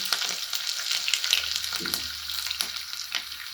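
Green chillies and curry leaves sizzle and crackle steadily in hot oil, a dense frying hiss with occasional sharp pops and spits as the leaves hit the pan, heard close with no talking.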